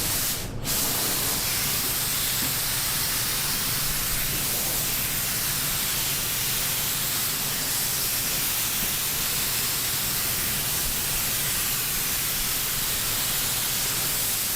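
A spray gun lays a single-stage yellow tack coat on a 1952 Ford, giving a loud, continuous hiss that runs steadily from a brief start to the end with no pauses.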